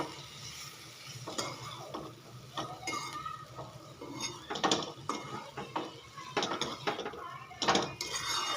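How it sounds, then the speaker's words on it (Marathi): Cluster beans sautéed with turmeric, chilli powder and green chillies in a pan, a spoon scraping and clinking against the metal in irregular strokes over a soft background hiss. "छान परतून घ्यायचं मस्त शेंगाला वगैरे सगळे मसाले कोट झाले पाहिजे"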